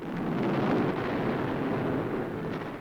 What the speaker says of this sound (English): Bombs away. They fall on the Formosa Island citadel.